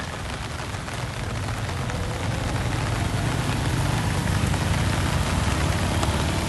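Heavy rain pours down in Phuket, Thailand, a loud, dense, continuous roar of drops hitting surfaces with a low rumble beneath, steady throughout with no voices.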